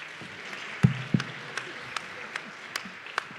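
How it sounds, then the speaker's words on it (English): An audience at a championship contest in Warsaw applauds, with scattered claps and a few louder sharp hand slaps standing out from a light, steady ovation. "big applause for our volunteers"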